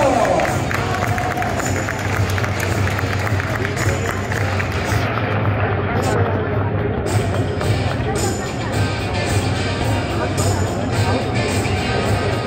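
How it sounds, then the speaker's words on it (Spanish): Crowd applause and cheering at a karting awards ceremony for the third-place driver, car number 26, a dense, steady roar of clapping and crowd noise with babble mixed in, loud and continuous throughout. "un fuerte aplauso para Jesús Guión"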